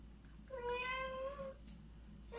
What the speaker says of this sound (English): Sorry, my cat has been very noisy today.